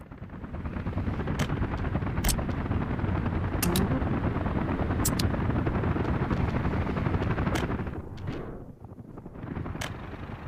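Continuous rotor-like roar of helicopters in the video game Workers & Resources: Soviet Republic, with sharp bursts of rapid firing cutting through, dipping briefly near the end before resuming.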